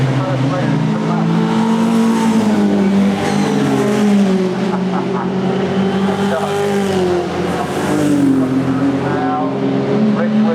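Saloon race cars lapping Oulton Park circuit in a sports saloon final, engines roaring loud and continuous with shifting pitch as cars accelerate and pass, under race commentary.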